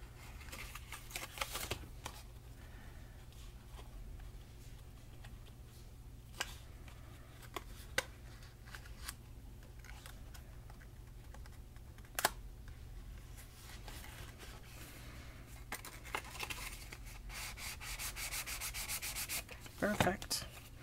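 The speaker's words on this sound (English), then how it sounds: "I actually am going to fold it gently around the box" Paper being folded and rubbed gently around a small box, a faint continuous soft scuffing with occasional light crinkles and taps, quiet and close throughout.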